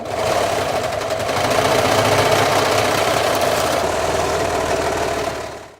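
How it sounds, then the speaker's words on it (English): A sewing machine whirs steadily and loudly at close range, a fast continuous stitching hum that runs for several seconds before stopping. "With her foot on the sewing machine pedal and her hands steady on the machine, she has stitched"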